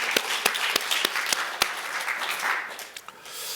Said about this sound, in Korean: 하나님께 영광의 박수 돌리고